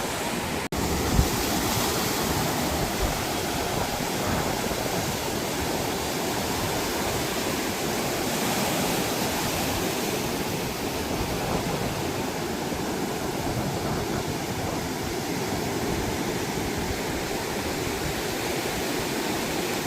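Sea surf at Mandarmani beach, a steady, loud wash of breaking waves rolling on without pause, close and continuous, with no voices.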